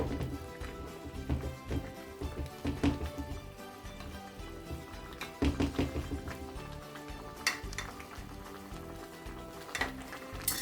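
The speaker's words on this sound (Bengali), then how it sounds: "জাস্ট নেড়ে চেড়ে আমি আবার ঢাকনা দিয়ে ঢেকে দিব" Raw papaya stirred in a pot with a utensil, with scraping and clinking over a low sizzle and bubbling, several sharper knocks from the metal pot and lid, close and moderately loud.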